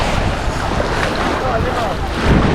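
Surf and gusting wind at Paka Beach on Naxos, Greece: a dense, loud rush of breaking waves and wind buffeting the microphone, continuous throughout.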